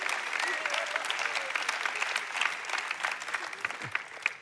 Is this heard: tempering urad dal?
no